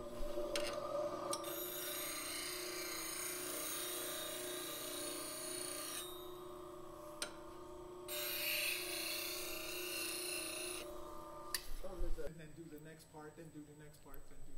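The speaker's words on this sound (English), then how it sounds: "it's really important that you get it cut cleanly with the scraper" A scraper cuts wood on a turned platter spinning on a lathe, giving a steady close whirring hum with a high rasping scrape that comes and goes in long passes, ending in a few knocks.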